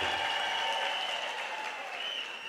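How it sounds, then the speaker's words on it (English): A large graduation ceremony audience applauds a university vice chancellor in a hall, the clapping a dense, continuous wash that holds steady and fades slightly at the end. "Can we give him a big round of applause,"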